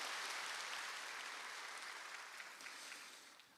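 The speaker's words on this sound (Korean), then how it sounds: "영광의 박수 올려드리겠습니다." A church congregation at a Sunday morning worship service gives a round of applause, a soft, distant wash of many hands clapping that gradually tapers off toward the end.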